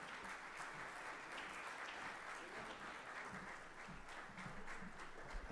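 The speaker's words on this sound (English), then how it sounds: "Can we have a huge round of applause once again?" Large audience applauding steadily at the Bharat 6G Alliance launch event, a dense, continuous wash of clapping at even loudness throughout, with no voices over it.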